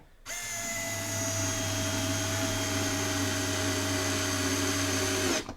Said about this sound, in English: And drill that right in.